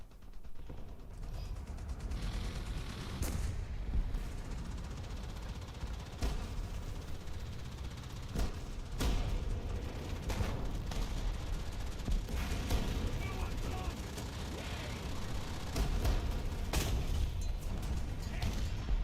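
Flak panzer anti-aircraft gunfire in a video game: a dense, sustained racket of repeated sharp cracks and mechanical clatter at steady loudness throughout, with occasional louder bursts standing out.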